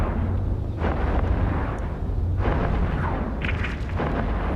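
Spaceship weapons fire and explosions in the EVE Echoes space combat game, a continuous rumbling barrage of heavy booms and blasts that swell and fade without pause, loud and dense.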